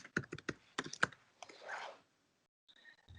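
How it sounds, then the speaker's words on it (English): Quick bursts of keystrokes clatter on a computer keyboard during an online language lesson, a cluster of sharp taps followed by a brief softer rustle, then quiet. "I'm going to type it."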